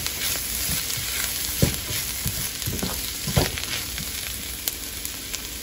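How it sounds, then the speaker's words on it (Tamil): Sautéed chayote with coconut and tamarind being stirred in a hot pan, a continuous sizzle with scattered spatula scrapes and knocks, close and steady. "நம்ம தேங்காய் ஆட் பண்ணிக்கலாம் அது கூடவே புளியும் போட்டுக்கலாம் நல்லா மிக்ஸ் பண்ணி ஸ்டவ் ஆஃப் பண்ணிடுங்க"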